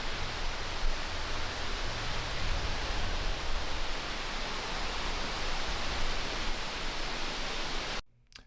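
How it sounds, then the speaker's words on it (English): Horsetail Falls near Valdez, Alaska, a waterfall giving a steady, dense rushing roar that stays constant and full until it cuts off abruptly near the end. "this is a beautiful waterfall here into Valdez."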